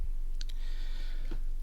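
A few quick plastic key presses on a calculator, sharp isolated clicks in a quiet room with no talking.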